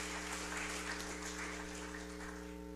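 A church congregation claps hands during a Sunday morning service, a steady dense wash of applause held at an even level throughout, with a low electrical hum running underneath.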